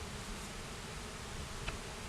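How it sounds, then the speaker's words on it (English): Bees busy inside a top bar observation hive give off a steady, soft buzzing hum that holds constant throughout, close by, with no voices. "see the bees working between the frames"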